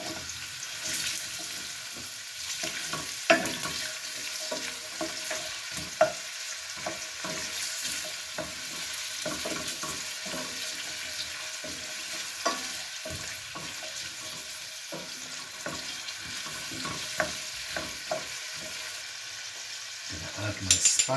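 Carrots fry and are stirred in a pan, a steady sizzle with scraping and knocking from the stirring, close and moderately loud, with no talk over it.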